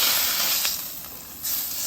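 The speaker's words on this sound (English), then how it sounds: "The first thing I'm gonna do is try to sear this fat side up." Picanha fat cap searing on a hot griddle gives a steady broadband hiss and sizzle, fairly close and even, with a brief flare near the end and no voices.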